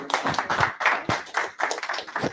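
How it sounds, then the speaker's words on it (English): Small audience at an investor meeting claps in a brief, uneven burst of distinct hand claps, moderately close and without talk. "So feel free to give a round of applause to Kelly for that."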